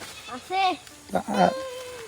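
A goat bleats twice, nasal wavering calls close by, with a voice talking around them.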